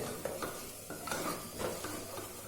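Egg mixture with chilli fries in a pan while a utensil stirs it, giving a steady close sizzle broken by repeated scraping strokes against the metal.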